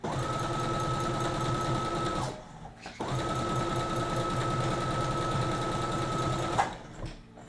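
A sewing machine stitches bias-tape dress straps in two steady whirring runs, close and continuous, with a brief pause between them.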